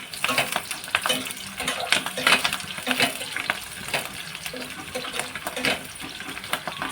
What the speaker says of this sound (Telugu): ఉల్లిపాయలు ఇలా ఏగుతూ ఉంటాయి